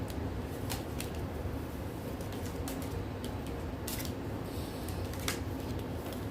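Tarot cards are gathered up and handled close by, a steady papery rustle and shuffle with scattered crisp flicks and taps as the cards slide against each other.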